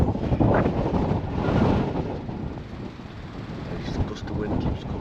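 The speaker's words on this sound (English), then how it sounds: "this gust of wind keeps coming up now." Gusting seaside wind buffets the microphone in strong, rumbling surges that swell and ease, loud and continuous throughout, with a faint voice underneath.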